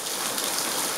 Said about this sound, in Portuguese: O tempo bonito com chuva na cidade de Salgueiro, Pernambuco.